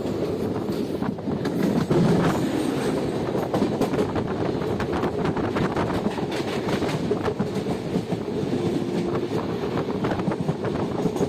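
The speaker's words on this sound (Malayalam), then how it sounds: "എറണാകുളം ടാറ്റ നഗർ എക്സ്പ്രസ് വരുന്നുണ്ട് കേട്ടോ." Ernakulam–Tata Nagar Express passing close by, a loud continuous rumble of rolling wheels with steady clickety-clack of wheels over rail joints and some wind buffeting, heard alone throughout.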